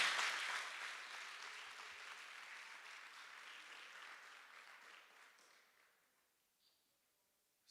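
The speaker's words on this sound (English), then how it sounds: "I think you deserve a big round of applause." An audience of students and parents at a school gathering claps in a broad wash of applause that slowly thins and fades into near silence.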